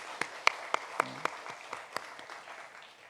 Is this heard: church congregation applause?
yes